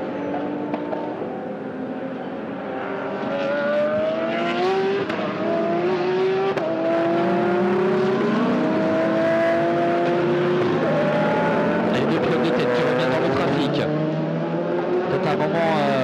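Race cars including a BMW M2 CS Racing circuit racer at Magny-Cours, engines droning and shifting pitch steadily throughout, with a commentator talking over them.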